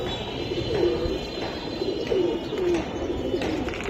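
Silver Giribaz pigeons coo in a low, repeated series of soft warbling calls, several overlapping at close range over a steady background hum, with no talk.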